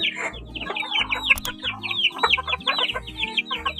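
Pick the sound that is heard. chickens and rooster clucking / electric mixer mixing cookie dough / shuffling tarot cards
chickens and rooster clucking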